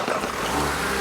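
A flood-damaged Audi TT RS engine catches briefly, a short mechanical crank and rev close by that cuts out almost at once.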